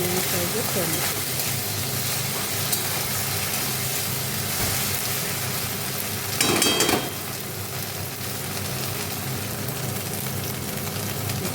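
Ginger and green chillies frying in oil for a potato curry: a continuous hissing sizzle with a brief louder flare midway as they hit the pan, while someone talks over it.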